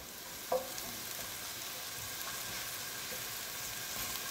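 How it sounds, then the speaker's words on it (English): Steady, soft sizzling of food frying in a pan, continuous hiss with a faint clink near the start. "You can already hear them sizzling."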